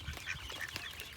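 Several ducks splash and quack softly while bathing together in a group, with brief honk-like calls over a steady murmur of water and movement, fairly close.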